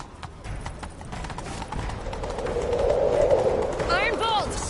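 Horse hooves clip-clop in a quick gallop in The Witcher 3: Wild Hunt, with a horse whinnying near the end over a busy game soundtrack.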